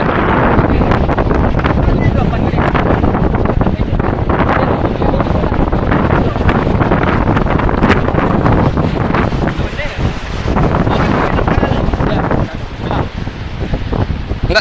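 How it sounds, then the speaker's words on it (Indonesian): Big storm waves crash at Air Manis beach, a loud churning surf roar blended with heavy wind buffeting the microphone, continuous and rough throughout. "ini ombaknya besar, dan ini lebih besar lagi tuh"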